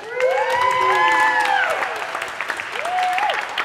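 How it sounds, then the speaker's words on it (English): An audience claps and cheers at an open-stage performance event, with whooping voices rising over dense, steady applause that stays loud and close for several seconds. "Let's hear it for our crowd. Let's hear it."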